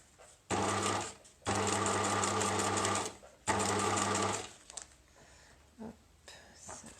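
A sewing machine stitches a bicycle frame bag in three loud, steady bursts, each about one to two seconds long, separated by short pauses, followed by quieter handling clicks and rustles.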